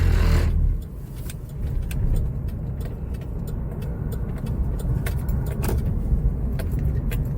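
A car drives over a rough, remote gravel road in Alaska, its low engine and tyre rumble steady throughout, with scattered sharp rattles and knocks from the bumpy surface; no one speaks.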